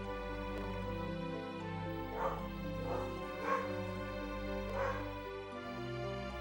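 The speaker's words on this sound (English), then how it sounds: "They're so bad about barking when we come home." Several dogs bark and yip excitedly in a few bursts as their owners come home through the gate, sounding moderately close over a steady low background hum.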